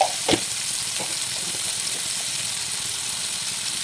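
Spice powders, including chili powder and ground coriander, are stirred into masala frying in a pan, with a steady sizzle and hiss throughout and a few scraping stirs near the start.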